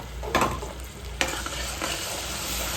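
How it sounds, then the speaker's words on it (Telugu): Tomato paste stirred into sizzling oil tempering for a fish curry, a continuous close frying hiss with a couple of sharp clanks of the stirring spoon against the pan. "ఈ టమాటా పేస్ట్ రెడీ అయింది కదా, ఈ తాలింపులో యాడ్ చేసేస్తున్నాను"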